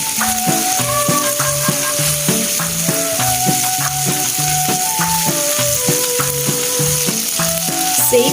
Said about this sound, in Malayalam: ഉപ്പും കുരുമുളകും ചേർത്ത ശേഷം ഒരു മിനിറ്റ് കൂടെ ഒന്ന് ഫ്രൈ ചെയ്തിട്ട് നമുക്ക് കോരി മാറ്റി വയ്ക്കാം